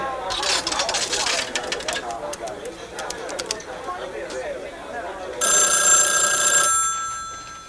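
A telephone bell rings indoors in one loud, sustained burst near the end, following a stretch of busy background noise with scattered chirps.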